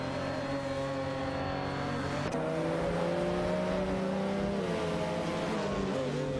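Racing cars in a video game, a Ferrari F355 Berlinetta F1 and a RUF CTR2, hold a steady high engine drone with layered rising and falling tones and a brief shift midway.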